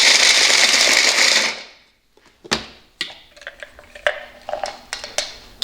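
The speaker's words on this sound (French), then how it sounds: "quelques noix dans un mixeur, ici des amandes, des noix du Brésil. Je vais les broyer 3-4 secondes." Electric food mixer grinding almonds and Brazil nuts, a loud high whirring roar for about two seconds that stops abruptly, followed by scattered clicks and taps of the container and ground nuts settling.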